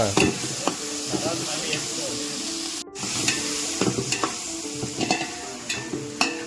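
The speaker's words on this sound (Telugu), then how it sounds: "అల్లం వెల్లుల్లి పేస్ట్ ఓకే మళ్ళీ రెండు కలుపుకోవాలండి దోరగా ఏగే వరకు కలుపుకోవాలి" Ginger garlic paste fries in a hot pan for a chicken curry, loud close sizzling broken by repeated clattering stirs and scrapes of the spoon, with a brief cutout in the middle.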